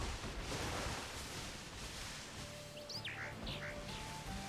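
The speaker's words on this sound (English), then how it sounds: "I was wondering what that bird was then." Several brief, high bird chirps rise faintly over a steady wash of background noise, a few scattered calls in the latter half with no talk.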